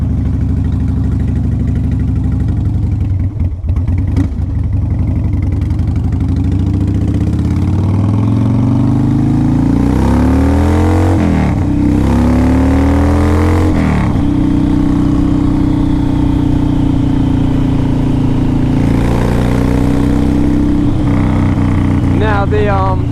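Engine of a 2005 Harley-Davidson Dyna Super Glide on a road ride, droning steadily up close with several clear rising and falling revs as it shifts through gears, plus wind rush, and some talk over it.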